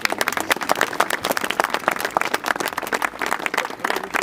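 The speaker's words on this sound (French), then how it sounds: "Vous pouvez les applaudir encore bien fort." Lively applause from a crowd at the outdoor inauguration of a children's rights trail, quick, crisp claps layered thickly at a strong, fluctuating level with no speech over them.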